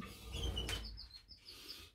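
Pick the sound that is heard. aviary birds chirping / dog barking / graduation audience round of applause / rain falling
aviary birds chirping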